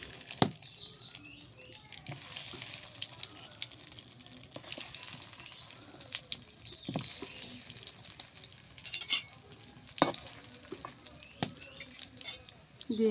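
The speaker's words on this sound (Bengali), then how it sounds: "এখন কড়াইতে পটলগুলো দিয়ে দেব" Marinated pointed gourd slices frying in a kadai, a soft sizzle under clattering utensil knocks and scraping, fairly quiet and uneven throughout.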